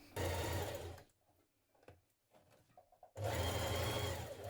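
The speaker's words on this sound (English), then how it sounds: "you're going to top stitch close to that seam on the front" Sewing machine top-stitching close to a seam on a jumpsuit, running loud and steady in two bursts with a quiet gap of faint handling noises between them.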